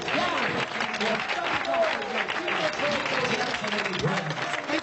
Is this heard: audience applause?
yes